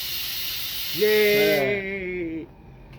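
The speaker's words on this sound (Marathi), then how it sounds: "कुकर कसं सिट्टी मारून राहिले पा" A pressure cooker whistles, releasing a loud, steady hiss of steam that suddenly cuts off, while a voice speaks briefly over it.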